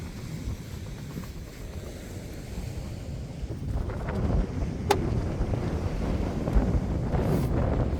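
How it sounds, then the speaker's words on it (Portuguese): Strong wind buffets the microphone at a sandy beach, a steady roaring rush with surf-like low rumble that grows louder midway and persists throughout, with no speech. "Eita, tá muito forte o vento"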